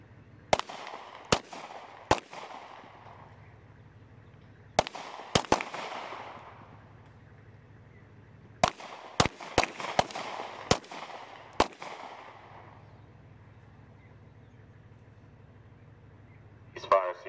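Rifles fire on a military shooting range during a Best Warrior Challenge, a series of sharp, scattered shots in irregular clusters with echoing tails, moderately distant, over a steady low rumble.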